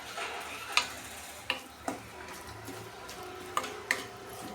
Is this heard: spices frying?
yes